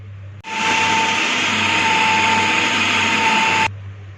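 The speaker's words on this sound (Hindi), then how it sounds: "इसी तरह सारे मसाले को ग्राइंड कर लेंगे, पीस लेंगे।" Electric spice grinder whirring steadily at full speed as whole spices for mutton shami kabab are ground, a loud continuous motor whine that starts abruptly, holds for about three seconds and cuts off, with no talking.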